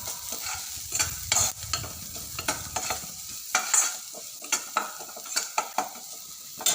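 Bhel snack being stirred with salt in a pan or bowl, a series of close scraping and clinking strokes in an irregular rhythm with a faint sizzle early on, no talking.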